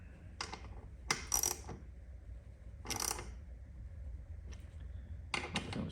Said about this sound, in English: Just hand tight with a ratchet